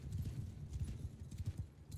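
Cavalry hooves clopping in Bannerlord, a medieval battle game, as mounted horse archers sweep across the field, a dense, continuous rumble of many galloping hooves close by.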